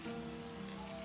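Rain falling in a video game, a faint, steady hiss of rainfall that stays soft and even throughout, with no voices.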